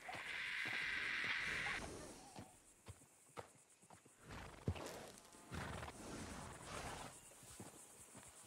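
An Appaloosa horse in Red Dead Redemption 2 gives a bright, fairly loud whinny at the start, then its hooves clop unevenly on the ground at close range, with faint insect chirps in the background.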